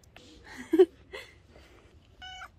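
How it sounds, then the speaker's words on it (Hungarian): Cat meowing in a spooky abandoned house, a few short, faint cries spread across a quiet stretch, with one louder, nearer call in the middle. "Cica!"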